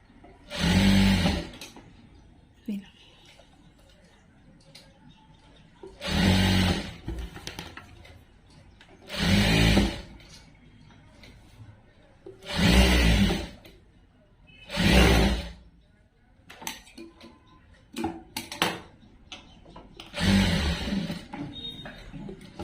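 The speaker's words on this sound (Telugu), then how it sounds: "చుట్టూరు కుట్టు కూడా వేసేయాలి ఇట్లా కట్స్కి ఇటు సైడ్ కుట్టు ఇటు సైడ్ కుట్టు కూడా ఉంటుంది" A sewing machine stitches a dress in six or so short, loud whirring runs a few seconds apart, with quiet pauses and faint handling noises between them, and no talking.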